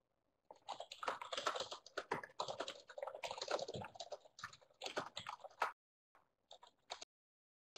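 Typing on a computer keyboard: quick, close clattering keystrokes come in fast bursts with short pauses, then drop to a few scattered taps before stopping, with no one speaking.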